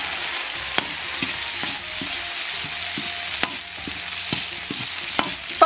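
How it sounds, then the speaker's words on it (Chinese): Scallion and ginger hit hot oil with caramelized rock sugar and bean paste, giving a steady close sizzle with regular spatula scrapes and clacks against the pan as they are stir-fried, and no voices. "放上葱姜"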